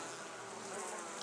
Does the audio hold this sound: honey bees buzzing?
yes